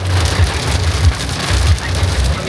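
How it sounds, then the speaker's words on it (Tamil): Heavy rain drums steadily on a Suzuki Wagon R while it is driving near Anuradhapura, Sri Lanka. It makes a loud, continuous hiss with a low road and engine rumble underneath, and there is no talk. "அனுராதபுரத்தில் பார்த்திங்கன்னா நெருப்பு மழை பெய்து கொண்டிருக்கு"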